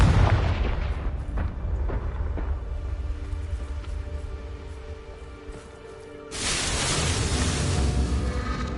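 A loud blast from a Confringo blasting spell erupts with a rumbling roar that fades, then a second heavy burst of explosive noise swells near the end.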